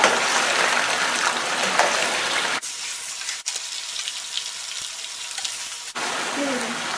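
Chicken for spicy biryani sizzles and fries in a pot after ginger and garlic are added. The hiss is steady and close, with the stirring briefly quieting it twice.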